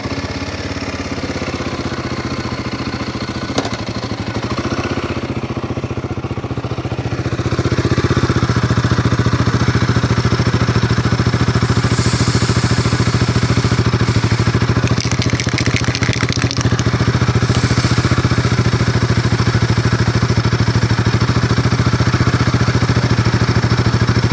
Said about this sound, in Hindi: तो बाइक को करते हैं स्टार्ट।